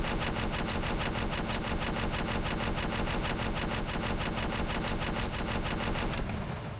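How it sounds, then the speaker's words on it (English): A ship-mounted machine gun in a video game fires a long, continuous burst of rapid, evenly spaced shots, loud and close, before cutting off abruptly at the end. "you do get to use the machine guns here"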